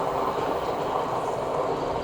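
A train runs along a railway line near a hospital building in Kebumen, with a steady loud rumble and rolling wheel noise close by and no talking.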